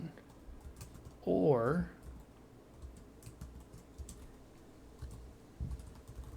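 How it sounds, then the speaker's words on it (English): Quiet clicking of a computer keyboard being typed on during a statistics lab session, soft irregular keystrokes with a brief spoken word near the start. "So let me type this down."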